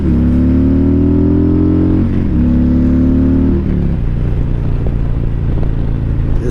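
2020 Harley-Davidson Road King motorcycle accelerating on a straight flat road, its engine note rising through gear changes in a few stepped pulls, close and loud, then settling into a steady cruising rumble.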